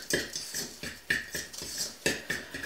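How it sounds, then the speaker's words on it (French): Health bar ingredients being mixed in a bowl, a utensil clinking and scraping against the bowl in a steady rhythm of about five or six strokes, up close with no talking. "je vais juste mélanger toutes ces choses-là ensemble."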